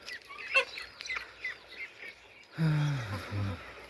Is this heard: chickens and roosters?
yes